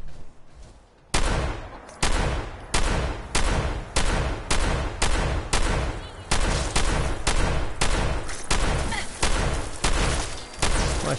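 Repeated gunfire in Fallout 4 from a modded pistol, loud sharp shots at a steady rhythm of roughly one or two per second, continuing for about ten seconds after a brief quieter start.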